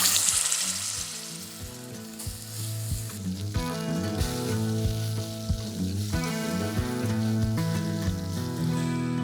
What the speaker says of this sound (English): hot pan, then we're gonna brown the pork tenderloin